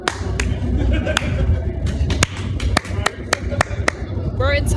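Several sharp hand claps used to sync a recording at the start of an interview at a UK metal festival, crisp isolated cracks spaced irregularly over people talking.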